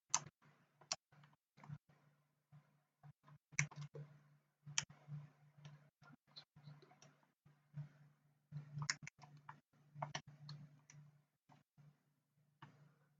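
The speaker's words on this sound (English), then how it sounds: "if I type this in the calculator" Small keys tapped on a handheld calculator, a quiet, irregular run of light clicks in short bursts with pauses between, close by and with no talking.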